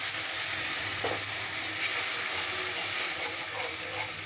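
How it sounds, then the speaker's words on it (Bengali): Water added to cumin and turmeric spices frying in a pan for a jackfruit seed vegetable dish, a loud steady hiss and sizzle with light stirring scrapes, close and continuous. "তারপরে একটু জল দিলাম"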